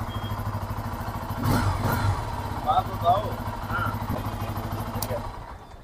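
A 2024 Bajaj Pulsar F250 250cc motorcycle with a dual-barrel exhaust idles with a deep, steady thrum and brief blips of throttle, heard close, while someone talks over it.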